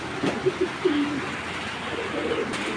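Pigeons coo at a pigeon sale, several soft throaty coos close by against busy market background noise.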